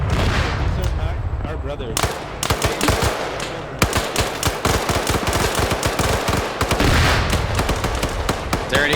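A BMP armored vehicle in a video game hammers out sustained automatic fire, dense rapid bursts of loud close shots with voices talking over the gunfire.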